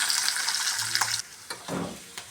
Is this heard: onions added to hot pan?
yes